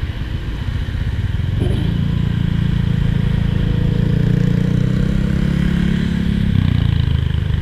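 A Honda ADV scooter idles and pulls nearby, its engine note rising into a steady, droning exhaust rumble through the muffler that holds for several seconds before shifting slightly near the end.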